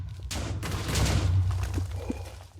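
A flying-machine missile in Minecraft smashes into a wall, a loud close burst of crashing explosion noise that swells and rumbles before tapering off, with a few small clicks after.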